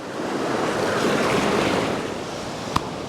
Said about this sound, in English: this water's starting to pump in, so we're going to make a touch of a retreat, which is sensible.